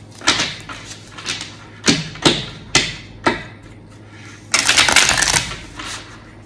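Gold foil tarot cards are shuffled hard close up: a series of sharp riffling bursts and taps, then a longer dense riffle near the end.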